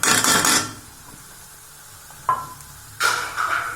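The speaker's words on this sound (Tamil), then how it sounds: "இதையும் போட்டு 2 பெரட்டு வைங்க" Crushed coconut, fennel and garlic are tossed into plantain frying in oil, giving loud, close bursts of sizzling and scraping stirs separated by a quieter gap with one sharp tap, and no talking.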